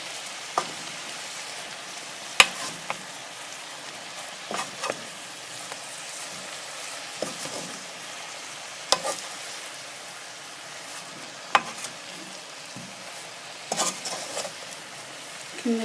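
A spoon stirs spinach soup seasoned with salt and black pepper in a pot, giving soft wet scraping and swishing with scattered light clinks against the pot, fairly quiet and steady, no voices.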